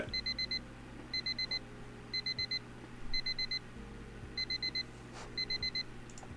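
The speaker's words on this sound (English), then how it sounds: "It buzzed." Electronic buzzer at the end of a timed round, sounding in six evenly spaced short bursts of rapid beeps over a steady low hum, fairly faint and alone.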